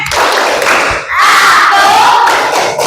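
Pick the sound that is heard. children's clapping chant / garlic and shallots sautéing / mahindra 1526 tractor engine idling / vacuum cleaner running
children's clapping chant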